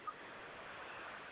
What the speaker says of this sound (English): You might hear some ocean in the background.